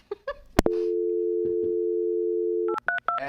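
A telephone line tone on a call holds steady for about two seconds after a click, followed by short rapid dialing beeps, with brief voices talking before it.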